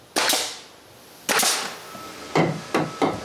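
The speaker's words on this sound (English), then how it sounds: "So after cutting a stud to the right length, I nail it to the wall." Hammer blows drive a nail into a wooden stud for an interior shelf in a cottage woodshed, four sharp, loud strikes: one, a pause, another, then two closer together, with nothing else around them.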